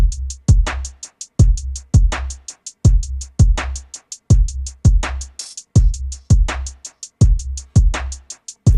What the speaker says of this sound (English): I added some kicks, a snare, two hi-hats, couple percussion loops, and my drums sound like this.